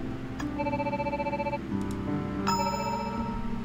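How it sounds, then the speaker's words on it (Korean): A telephone ringback tone purrs in repeated bursts while a call to the police connects, steady electronic rings over a low background hum, with no speech. "경찰에게 전화해보기로 했다."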